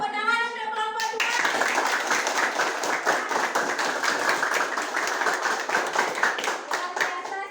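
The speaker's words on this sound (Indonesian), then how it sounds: "Tepuk tangan untuk kelompok 2" A small group of schoolchildren in a classroom claps steadily for several seconds, brisk and fairly close, preceded by a brief voice.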